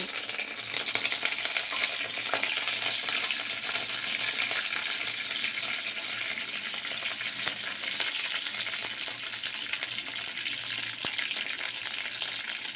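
Curry leaves and garlic cloves sizzle steadily in hot oil in a pan for a Tamil pea kara kuzhambu, a dense, continuous crackling hiss with occasional sharper pops, fairly close and without talk.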